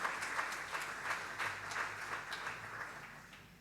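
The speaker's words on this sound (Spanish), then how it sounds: "¿Cuántos le dan un aplauso al Señor?" Congregation applauding during a church service, a steady patter of many hands clapping at moderate distance, fairly quiet and even, with no clear speech over it.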